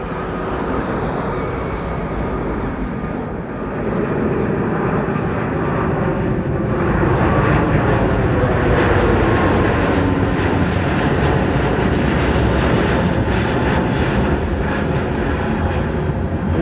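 Airbus A350 airliner taking off at Delhi's IGI Airport with its landing gear retracting, a loud sustained broadband jet roar that swells and holds steady throughout, with no talk.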